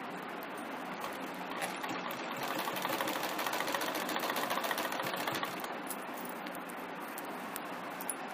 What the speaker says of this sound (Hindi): इसे रख के इस तरह से सिलाई कर लेना है।